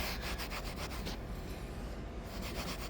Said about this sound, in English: you just start scrubbing on it and it'll take it right off